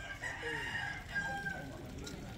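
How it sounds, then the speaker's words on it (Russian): A rooster crows in a Balinese village, a single drawn-out cock-a-doodle-doo heard at moderate distance over quiet outdoor background. "А вот этот петух типа будильника."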